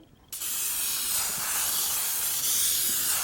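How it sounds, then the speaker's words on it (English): Canola oil cooking spray hisses in one continuous loud burst onto a baking pan, starting abruptly after a brief quiet moment and holding steady to the end. "I'm going to be using canola oil spray"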